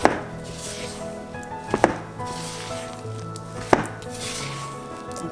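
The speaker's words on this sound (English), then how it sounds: "You really want to make sure that you mix everything well." Banana bread batter being mixed by hand in a bowl, a steady low churning with a few sharp knocks of the utensil against the bowl's side, close and alone without talk.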